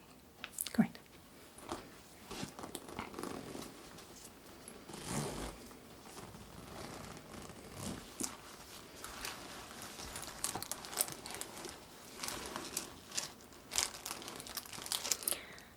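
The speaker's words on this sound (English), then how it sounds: "what I'm going to do now is unzip your bag and just have a little look through those contents" Zipping open a bag at an airport security check, then rummaging through its contents with crinkling, rustling and soft crunching handling noises close to the mic, in an intermittent, uneven rhythm.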